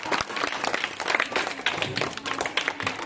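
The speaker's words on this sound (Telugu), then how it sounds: "పిల్లలందరూ చప్పట్లు పట్టాలి" Schoolchildren at a rural primary school day function clap together for a guest being welcomed to the stage, a dense, continuous round of applause with voices mixed in.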